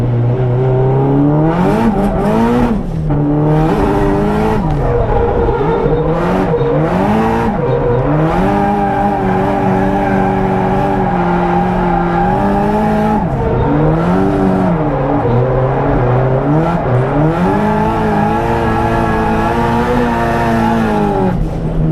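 A Nissan S13 engine drones steadily at high revs in third gear, its pitch rising and falling as it accelerates and eases off, loud and close throughout.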